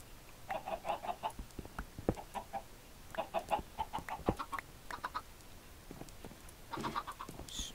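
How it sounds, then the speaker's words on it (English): Minecraft chickens cluck in short repeated bursts amid game sound effects, several clusters of clucks spread across the scene at moderate level with brief clicks and thumps between them. "Hey, chicken, get out of the way."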